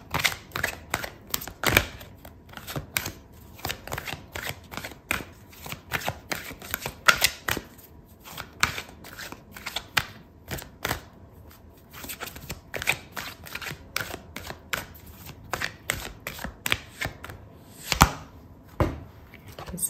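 Tarot cards shuffled by hand during a reading, a steady run of dry riffling clicks and flutters, close and moderately loud, with a few sharper snaps and no talking.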